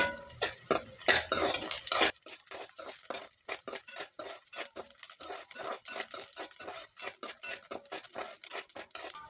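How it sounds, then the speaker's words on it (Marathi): Garlic and fresh coriander sauté in a pan for a bitter gourd stir-fry, a loud sizzle at first, then a steady run of quick scraping stirs and utensil taps against the pan, with no talking. "त्यात लसूण घालून घेऊ आणि कोथिंबीर थोडीशी हे पण चांगलं परतून घ्यायचं व्यवस्थित"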